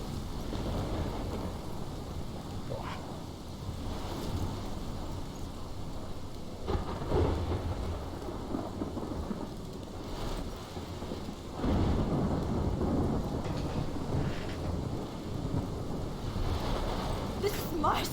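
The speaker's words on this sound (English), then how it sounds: "This is my storm." In the video game Life is Strange, a thunderstorm rumbles under a constant wash of heavy rain and wind, with several deep thunder rolls swelling in the middle and near the end.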